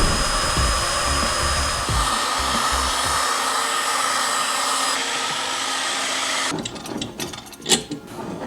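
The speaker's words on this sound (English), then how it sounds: "I want to heat this area up with a heat gun to try to save the paint" A heat gun blows hot air over the painted fender of a Miata, a loud steady whooshing roar that runs continuously, then cuts to a quieter stretch with scattered handling noises and knocks near the end.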